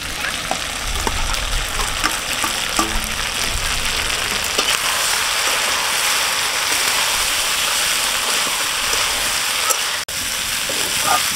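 Potatoes going into a pan of frying local chicken being cooked for bhuna, a steady loud sizzle and crackle of hot oil with occasional scraping and stirring, continuing without pause.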